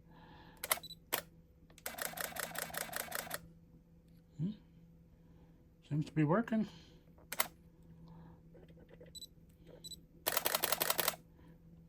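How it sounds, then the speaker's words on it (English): A Canon EOS 40D DSLR shutter fires in rapid continuous bursts on high-speed drive mode, several rattling rolls of clicks separated by single shots, with a voice speaking briefly in between. "Pretty fast shutter for what it is."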